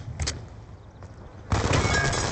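Gunfire during a video game raid, a couple of quick sharp shots followed by a dense burst of rapid firing that fills the end of the moment.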